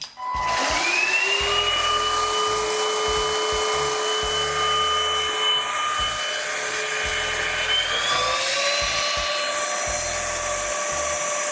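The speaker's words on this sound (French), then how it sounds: "Ici, je vais vous montrer le bruit que fait l'aspirateur en mode 1 puis 2." A Vegrem foldable stick vacuum cleaner whines at close range in its first power mode, then steps up to a higher, louder pitch as it shifts into mode 2, running steadily with no talking.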